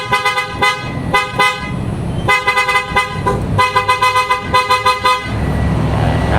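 PIAA horns on a Toyota Vios blast repeatedly and loudly up close, several short honks followed by longer sustained blasts.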